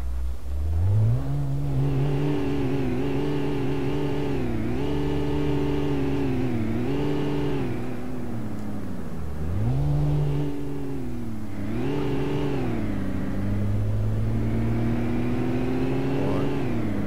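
A 2008 Range Rover's engine in the City Car Driving game revving up repeatedly, its tone rising and dropping through several gear changes in a steady, close drone.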